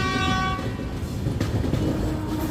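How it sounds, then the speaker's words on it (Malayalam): A train at KSR Bengaluru railway station, where the Coimbatore Uday Express double-decker departs. A brief horn tone opens, then a continuous heavy rumble of rolling stock carries on loud and close. "യാത്ര തുടങ്ങാനായി നമ്മളിപ്പോൾ എത്തിയിരിക്കുന്നത് KSR റെയിൽവേ സ്റ്റേഷനിലാണ്."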